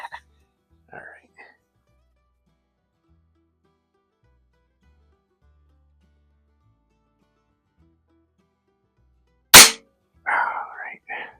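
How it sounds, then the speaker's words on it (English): A Weihrauch HW50S spring air rifle fires a Meisterkugeln wadcutter pellet: one sharp, loud crack near the end, preceded by faint murmuring and near silence, followed by brief low speech. "I'm shooting some Meisterkugeln wad cutters"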